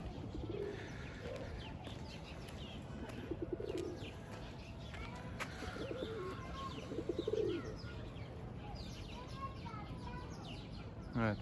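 Pet pigeons coo in soft repeated rolling phrases outdoors, with faint chirps, wing flaps and a steady background hum; someone talks at times.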